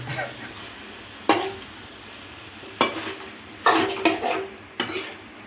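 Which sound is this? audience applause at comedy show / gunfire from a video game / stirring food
stirring food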